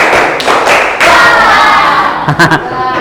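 Schoolchildren clap together in a classroom on the teacher's cue, a quick run of loud unison claps, a sustained burst of clapping, then another tight cluster of sharp claps close by.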